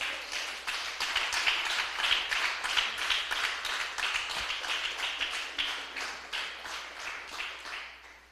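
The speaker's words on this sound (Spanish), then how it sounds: "Déselo fuerte el aplauso, aleluya." A church congregation claps in a fast, even rhythm, distinct individual claps repeating steadily for about eight seconds at moderate volume.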